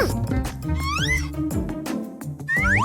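A kitten in a cartoon gives a few short, high rising meows, mixed in among clattering effects and a busy, loud backdrop.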